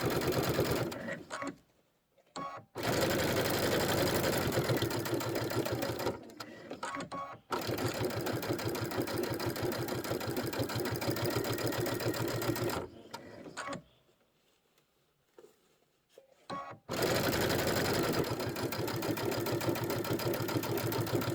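A sewing machine stitches steadily in long, close, evenly buzzing runs, stopping briefly several times for pauses of near silence before starting again.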